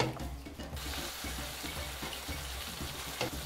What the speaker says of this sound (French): Il faut vraiment mélanger délicatement